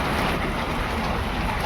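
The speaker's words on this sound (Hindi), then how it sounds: "ये देखो दोस्तों कितनी तेज बारिश लगी हुई है" Heavy rain mixed with hail pounds steadily and loudly near a mountain shelter on the way back from Kartik Swami, a dense continuous roar with no voices.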